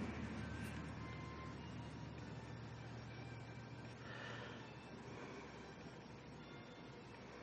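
A farm truck rumbles steadily somewhere outside, a low continuous drone that holds at an even level from start to finish.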